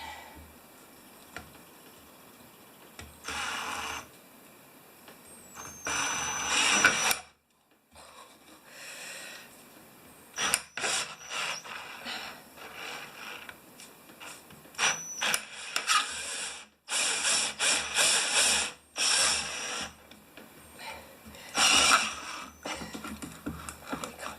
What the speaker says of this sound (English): let's get some drill action going